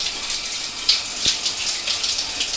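Water from a Kohler shower head runs in a steady broadband hiss during a repair, with a few brief splashy spikes and no talk over it.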